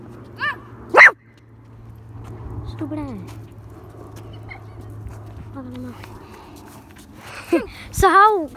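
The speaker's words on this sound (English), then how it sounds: "And they got a dog right there." Dog barking outdoors in short, sharp bursts near the start and again toward the end, with people chatting in between and a low steady hum underneath.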